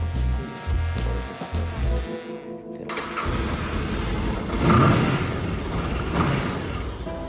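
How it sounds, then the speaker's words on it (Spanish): Motorcycle engine starting after a few short cranks, then idling and revving steadily nearby. "Con la moto arrancada"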